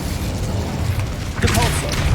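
A fire spell erupts with a burst of crackling flame in the Hogwarts Legacy video game, a fairly loud whooshing flare near the end over steady low game rumble and music.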